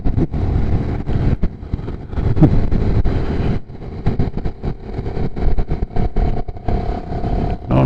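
Motorcycle engine lugging at low revs in too high a gear on a mountain highway ride, a loud rough rumbling drone with wind buffeting, steady and close throughout.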